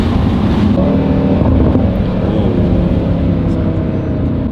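An Audi RS3 fitted with a 034Motorsport carbon intake, driven with the windows down: a loud, steady engine drone blended with constant rushing wind, unbroken throughout.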